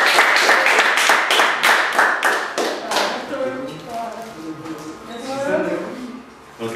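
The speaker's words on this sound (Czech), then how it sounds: "velký potlesk" A room full of people clapping for the winner of a Warcraft III tournament at a prize ceremony, a loud burst of brisk applause that fades after a few seconds as talk takes over.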